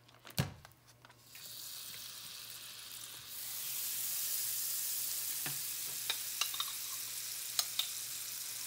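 Half a stick of butter dropped into a hot pan, an opening clatter, then a broadening hiss of sizzling butter that settles into a steady, fairly quiet fry with a few light pops and ticks, no talk.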